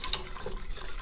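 Black pepper and Himalayan salt stirred into a thickening loaded potato soup on the stovetop with cream cheese, heard as a brief burst of close spoon scraping and clinks in a pot under a faint background hiss.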